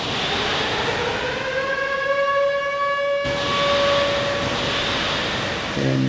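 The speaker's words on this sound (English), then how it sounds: "we heard the sirens." Air raid sirens during a wartime attack in Israel, a loud wailing tone holding steady and shifting pitch, with another siren layered in midway, sustained and echoing across open space.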